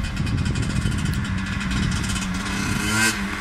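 A Honda CR250 two-stroke dirt bike engine, running lean, idles and revs steadily up close, with a dense buzzing drone and a slight rise in revs near the end; no talking.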